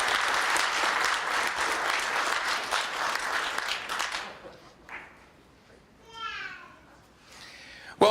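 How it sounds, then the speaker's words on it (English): Audience applause for Officer of the Year award nominees at a police annual awards ceremony, dense clapping for about four seconds before fading into quiet murmurs and a voice. "Let's give another round of applause to Frank Bowersox, Curtis Oya, our nominees for Officer of the Year."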